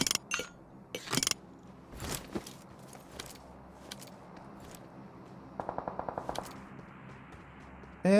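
Gunfire in the mobile battle game PUBG Mobile, with scattered single shots followed by a quick burst of rapid automatic fire near the middle, plus small metallic clinks between shots.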